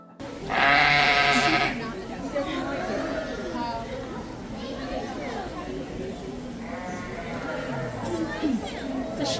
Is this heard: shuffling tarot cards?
no